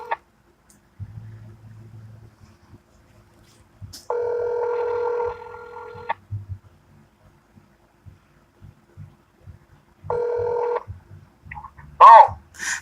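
On a radio talk show, a telephone call to a guest is placed: soft dialing tones first, then two long buzzing ring-back tones several seconds apart, with quiet murmurs between and a voice answering at the end.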